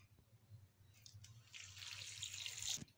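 Boiled water poured into a clay pot of black chickpeas, a soft trickle that swells into a steady splashing pour for about a second and a half before stopping, quiet and close.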